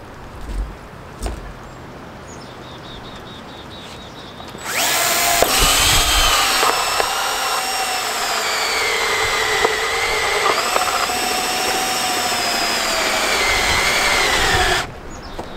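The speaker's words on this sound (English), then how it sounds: "I'm going to drill them and show you what I'm doing here" A power drill with a hole saw whirs loudly for about ten seconds, its pitch wavering as it bites through material, after a quieter stretch of background noise.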